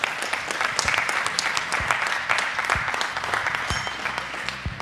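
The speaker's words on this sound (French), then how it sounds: "Pour le 2e round de boxe, on peut les applaudir." A crowd at a boxing match applauds steadily between rounds, a dense wash of clapping with a few sharper claps standing out, moderately loud and sustained.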